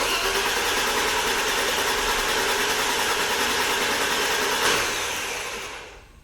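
A barn-find BMW E34 cranks without firing, its starter churning in a loud, continuous whir. The cranking holds steady for several seconds, then winds down and fades out.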